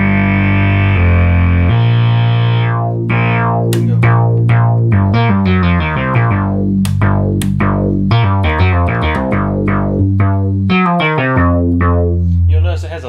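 A Moog Realistic MG-1 synthesizer plays its mono oscillators, a rich, buzzy monophonic line of sustained bass notes and rapid stepping runs, loud and continuous with no talking.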